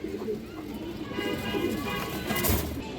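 A male pigeon coos in soft, repeated low notes close by, amid a pen of fancy breeds like kaldom, muslad and silver for sale, with steady background murmur throughout.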